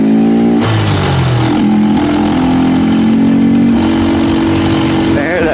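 A Honda Grom motorcycle fitted with an $80 performance mod revs loudly up close, its engine note rising and holding with throttle blips, while someone talks over it.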